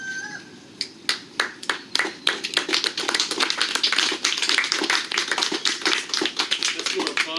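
Breakfast club audience applause for a speaker coming up, starting with a few scattered claps that quickly build into dense, rapid, close-up clapping from a small room.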